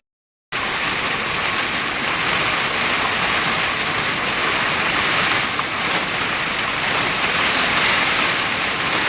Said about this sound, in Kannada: ಇಲ್ಲಿ ಕಾಣಿಸ್ತಿದ್ಯಾ ಎಷ್ಟು ಮಳೆ ಬರ್ತಿದೆ ಜೋರಾಗಿ ಅಂತೇಳಿ.